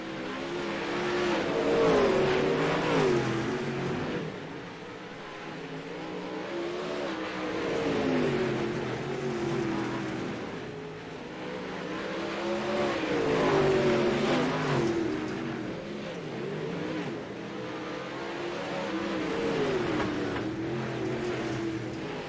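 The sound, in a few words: race cars lapping Fairbury Speedway dirt track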